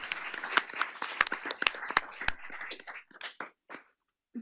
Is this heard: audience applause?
yes